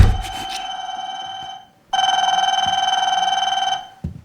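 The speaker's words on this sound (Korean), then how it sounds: "その時部屋の電話が鳴る。" A telephone rings in a room in a Korean thriller film, with two clear electronic ring bursts separated by a short pause, loud and close, and a brief thud at the end.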